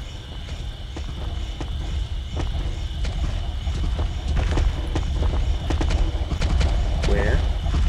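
Horses clip-clop in the dark in the horror video game DreadOut, a steady run of hoof-like knocks over a low rumbling ambience, with a voice speaking now and then.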